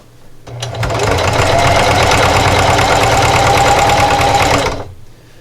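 A sewing machine stitches a grippy fabric jar opener with a regular presser foot, running as one steady, loud, continuous burst of several seconds with a fast, even needle rhythm that starts and stops abruptly.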